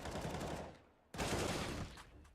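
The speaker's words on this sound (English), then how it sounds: "Hail of gunfire." Rapid automatic gunfire from the competitive shooter Counter-Strike: Global Offensive, played on the Inferno map at an esports match, rattles in two dense bursts separated by a brief lull, faint overall.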